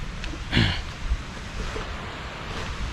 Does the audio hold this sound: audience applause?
no